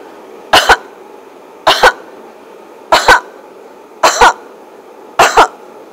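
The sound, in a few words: coughing five times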